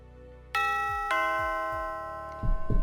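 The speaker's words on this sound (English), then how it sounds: "Multiple doorbell rings." Doorbell in a visual novel video game rung twice in quick succession, bright chiming tones that ring out and decay over a soft low ticking pulse, with a brief muffled rustle at the end.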